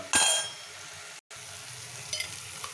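Two large tomatoes soften in a frying pan with a low, steady sizzle. A brief clatter comes at the start and a short dropout follows, then the hiss runs on quietly.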